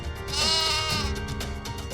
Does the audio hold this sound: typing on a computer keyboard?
no